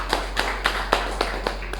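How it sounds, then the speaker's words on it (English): A small gathering at a club meeting claps in a sparse, regular rhythm, about seven distinct claps spaced evenly, fairly close, over a low steady hum. "Let's give a round of applause to her."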